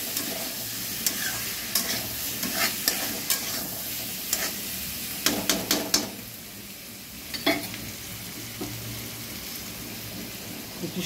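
Soya chaap coated in vinegar sauce and chilli sautés in a pan with a constant sizzle, broken by repeated scraping and clattering strokes of a spatula as it is stirred.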